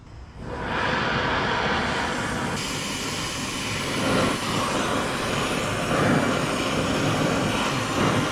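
A 1971 Mustang engine rumbling through open long tube headers, a steady loud broadband roar with a low throb that swells a little around the middle and end, with no talking.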